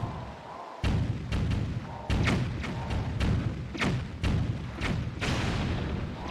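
A cannon fires repeatedly in The Wind Waker HD, sharp booming blasts coming in an irregular series of about ten over a rumbling background.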